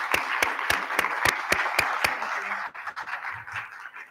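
Conference audience applauding, with strong rhythmic unison claps standing out over the crowd for about two seconds before the applause breaks into scattered, fading claps.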